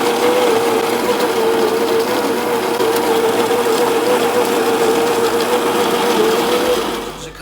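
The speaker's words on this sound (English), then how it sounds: "I'm gonna go ahead and grind" A coffee grinder mills beans to a fine grind for an Aeropress, a loud, steady motorized whir with a constant hum that runs unbroken for several seconds before winding down at the end.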